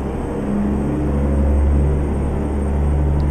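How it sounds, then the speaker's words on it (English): A jet plane passes overhead in American Truck Simulator, a steady low rumbling drone that stays fairly loud and even throughout, blended with the truck's own engine hum. "Oh, there's a jet plane."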